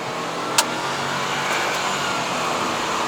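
A 2021 Nissan Almera 1.0 Turbo pulls hard at full throttle on a mountain road, its steady engine note heard from inside the cabin, loud and continuous, with one brief click near the start.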